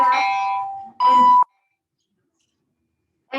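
A school bell rings in a classroom as two loud electronic tones, the second sharper and more piercing, followed by silence and another tone beginning at the very end.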